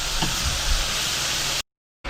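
Steady broadband sizzling of steak or shrimp frying in a pot, continuous and fairly loud, then a sudden cut to silence near the end.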